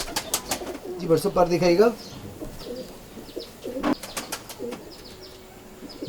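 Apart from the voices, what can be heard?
Ferozpuri pigeons cooing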